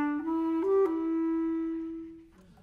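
A bass clarinet plays alone with a warm, reedy tone, moving through a few sustained notes in a short phrase before trailing off.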